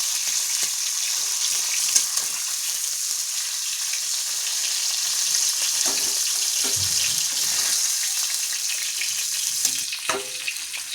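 Hilsa fish sizzling in hot oil in a pan, a constant bright hiss of frying with occasional clinks of a utensil, close and alone.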